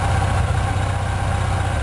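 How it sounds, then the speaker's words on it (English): A Yamaha FJR1300 motorcycle engine idles steadily up close, a low, even rumble with a constant throb and no other sounds. "She's idling now"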